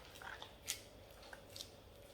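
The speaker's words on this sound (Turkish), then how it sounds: "ucunu alıyoruz makasla ve bu şekilde sıkıyoruz" Kitchen scissors snip the tip off a piping bag while preparing the Turkish dish Ali Nazik, giving a single crisp cut followed by a couple of faint snips over quiet room tone.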